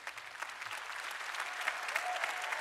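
A church congregation at a worship service claps loudly and steadily, a dense, continuous patter of many hands that swells slightly toward the end.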